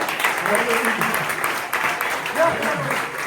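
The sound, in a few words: applause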